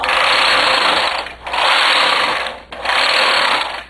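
A domestic knitting machine with a ribber attachment knits three rows at tension 2, three loud continuous whirring carriage passes, each broken by a brief pause at the row ends.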